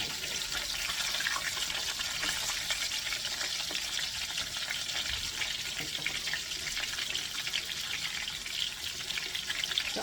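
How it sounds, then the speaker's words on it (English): Mahi mahi fillets fry in a pan with a dense, steady hiss and crackle of hot oil that holds level throughout, close and fairly loud with no talking. "So I'm going to continue frying them up"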